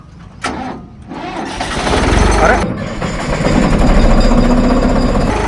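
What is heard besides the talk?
tractor engine running without silencer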